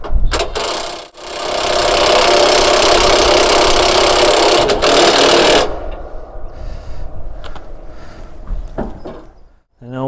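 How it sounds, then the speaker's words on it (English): An impact gun unlatches the top of a forage harvester's feed roll housing at a harvester demonstration event, a loud continuous burst lasting several seconds, then sharp clanks and quieter mechanical rattling afterward. "then the top, once again, we unlatch it using an impact gun."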